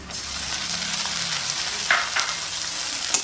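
Onion, chili, ginger and garlic pastes sizzle steadily in hot oil in a pan for a Bengali fish and mustard dish, a continuous close frying hiss with a few brief scraping stirs near the end and no talk.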